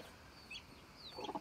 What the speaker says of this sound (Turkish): 10 tane civcivimiz oldu.